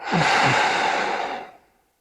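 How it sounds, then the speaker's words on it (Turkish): One long, deep exhale during a morning yoga breathing exercise, close and loud, slowly fading to silence. "ve ver nefes."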